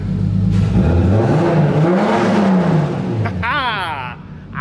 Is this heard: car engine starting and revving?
yes